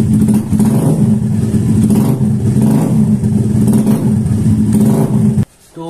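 A motorbike engine idling steadily right after being started, a loud close rumble with slight surges before cutting out abruptly near the end.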